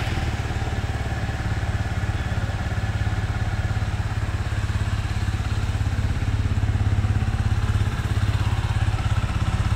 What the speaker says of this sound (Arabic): هدور لكم برضو الموتوسيكل تسمعوا صوته